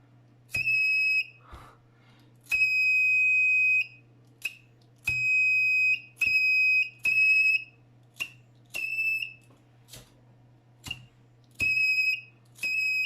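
A homemade fire detector alarm sounds during a bench test, giving loud, shrill electronic beeps in an irregular on-off pattern, some bursts long and some short, over a steady low hum.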